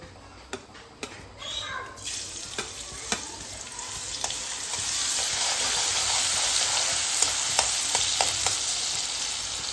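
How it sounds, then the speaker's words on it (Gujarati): Garlic dropped into hot oil while making a potato sandwich breaks into a steady loud sizzle that builds and holds, with scattered stirring clinks early on, heard close and without talk. "આપણે આમાં પહેલાં તેલમાં લસણ નાખીશું"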